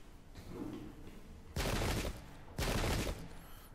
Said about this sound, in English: they're going to start opening fire on our Grenadiers.